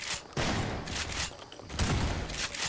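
Gunfire in Half-Life 2, a few bursts of loud shots and impacts spread over a short span, bunched in two clusters with brief lulls between them.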